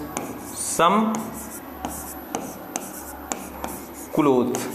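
A pen or chalk writes out a short English sentence, with scattered scratchy taps and strokes spaced through the clip while a teacher's voice speaks briefly at the start and end.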